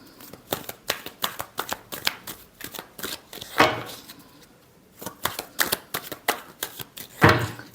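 Tarot cards being shuffled by hand in quick riffling bursts, close and crisp, with a louder flutter near the middle and another at the end, separated by short pauses.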